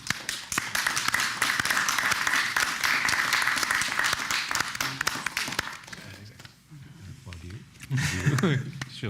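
Audience applause for conference panelists at a hybrid brand-strategy event, dense clapping filling the room for several seconds, thinning out, then a short final burst, with voices mixed in.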